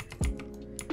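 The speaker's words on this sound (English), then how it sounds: "Excuse my keyboard sounds. My keyboard has red switches, I believe." Mechanical keyboard with red switches typing in a quick, uneven burst of clicks and clacks, close up, with one heavier thunk near the start.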